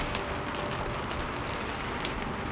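Steady rain falls across a quiet street at dusk, a dense, even hiss with soft patter and scattered drops, close and constant throughout.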